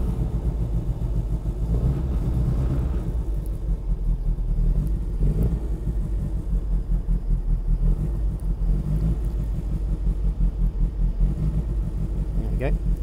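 A car engine idles steadily with a deep, continuous rumble and slight throbbing pulses, close by.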